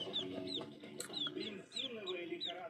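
Young chicks chirp repeatedly while learning to drink, with high, rapid peeps close by over soft clucking and a low background murmur.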